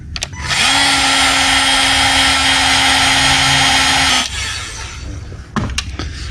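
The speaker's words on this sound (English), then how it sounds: "I like using this Milwaukee battery powered heat gun" A Milwaukee battery-powered heat gun blows hot air to shrink wire tubing during automotive kill switch work on a Toyota 4Runner, a loud steady whirring hiss for about four seconds that cuts off, followed by a few soft clicks and handling noises.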